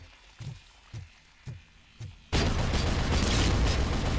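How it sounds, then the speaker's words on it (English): Stun move striking a turret in the RoboCop: Rogue City video game: four short rhythmic thumping pulses, then a sudden loud, dense burst of blasting noise that fills the rest of the moment. "Let us see if using the stun move actually destroys the turret"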